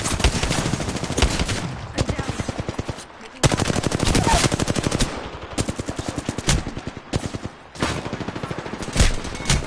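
Loud, close video-game gunfire in repeated bursts of rapid automatic shots separated by brief pauses, with a sharper, denser burst midway and further volleys to the end.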